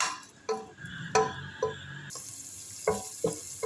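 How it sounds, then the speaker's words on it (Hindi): Two medium onions frying in oil in a pan for beef fry, soft sizzling broken by several sharp clattering stirs and scrapes, with a brighter hiss rising partway through. "जी शामिल करेंगे ऑयल में 2 मीडियम साइज़ के प्याज, और प्याज को हमने सॉफ्ट करना है।"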